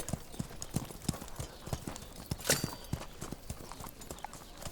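A Polovtsian horse ridden by a prince clip-clops at a walking pace, its hooves striking in an even rhythm at moderate distance, with a brief sharp rustle partway through.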